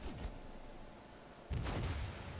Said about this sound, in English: So salvo from the front guns, because my rear guns are not turned yet.